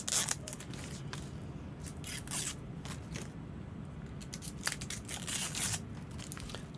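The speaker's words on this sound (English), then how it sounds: "Let's take out this peel first." Protective plastic film being peeled and crinkled off a Logitech C615 webcam, a close run of crackling, tearing rustles in short bursts.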